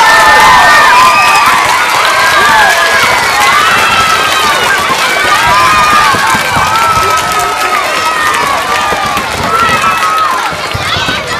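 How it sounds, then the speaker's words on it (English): A school vocal concert audience at Rowland breaks into loud, sustained cheering and applause, with children's high shouts and whoops layered through the dense, continuous crowd noise. "she deserves another round of applause"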